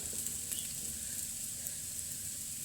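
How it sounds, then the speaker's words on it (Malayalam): Grated coconut frying in hot oil with black pepper, curry leaves, garlic and shallots, giving a soft, steady sizzle with faint crackles throughout and no voices. "ഇത്ര ഇട്ടിട്ട് നമുക്ക് നന്നായിട്ട് വറുത്തെടുക്കാം കേട്ടോ"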